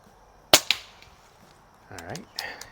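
A Crosman 1701P air pistol fires a pellet with one sharp, loud crack, followed by a second fainter pop and a short metallic ring; a brief voice comes near the end.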